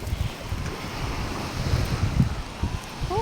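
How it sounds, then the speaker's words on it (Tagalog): Sea waves at the beach at Puerto Azul, a continuous rushing wash of surf mixed with strong wind buffeting the microphone and irregular low thumps, with no speech. "Oh, ganda ng dagat."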